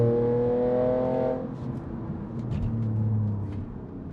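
An Audi A5 3.2 V6 revs hard, its engine note climbing loud and close before dropping off, then surging again into a deep rising drone.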